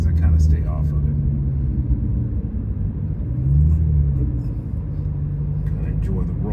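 A BMW E92 M3 with a Valvetronics exhaust rolling along: a low, soft burble and steady rumble from the rear, with a voice talking over it.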